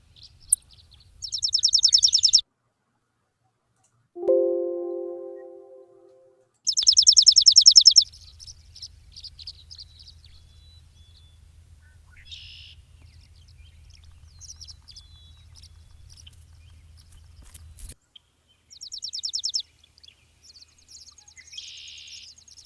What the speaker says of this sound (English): Chipping sparrow, beautiful little bird.